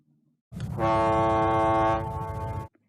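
A single loud, sustained steam locomotive whistle blast lasting about two seconds, rich in harmonics, then cut off abruptly.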